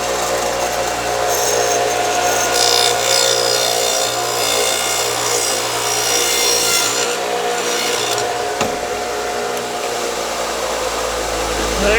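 A dado stack on a 12-inch table saw cuts through black walnut: a loud, continuous whining roar with a grinding edge that holds steady for the whole stretch, with no talking.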